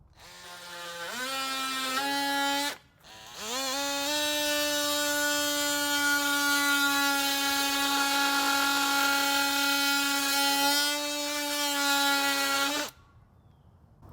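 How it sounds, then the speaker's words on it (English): A DeWALT brushless oscillating tool with three speed settings runs close and loud as a steady high buzzing whine. It spins up twice, with a brief stop between runs, then holds a long continuous run before switching off. "The oscillating tool, also brushless, features 3 speed settings with a flashlight."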